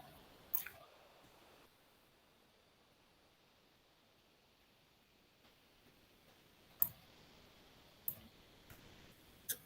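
Computer mouse clicks in a quiet room, a few sharp isolated taps spaced seconds apart over faint steady background hiss, with no talking.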